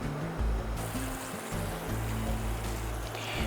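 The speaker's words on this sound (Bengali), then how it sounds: "গ্রেভি বেশ ভালো করে ফুটে উঠেছে" Gravy of water and spices bubbling in a pan on the stove for an old-style vegetarian dish, a steady close bubbling rumble with a soft hiss throughout, no voices.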